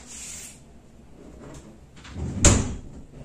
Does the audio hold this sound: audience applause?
no